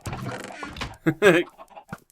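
Minecraft chickens cluck in short, irregular bursts from an auto chicken cooker, mixed with a voice speaking over them at close range.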